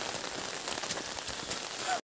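Steady rain falling on a hillside village road during monsoon, a dense even hiss of drops on surfaces, close and continuous for about two seconds before cutting off.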